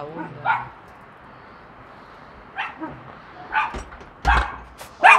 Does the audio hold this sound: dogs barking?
yes